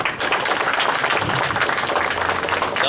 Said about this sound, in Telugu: చప్పట్లో వాడదాం చప్పట్లు